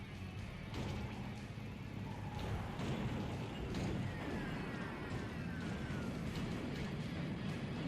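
Vehicles blow up in the car-combat game Twisted Metal 2. A steady, loud wash of blasts, crashes and thuds runs the whole time without a break.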